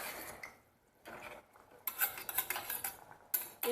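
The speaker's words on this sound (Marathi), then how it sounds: "आपण हे मिक्स करून घेऊया" Metal utensil scraping and clinking against a pot in short bursts, stirring rice and water with soft watery scrapes, close by with no talk.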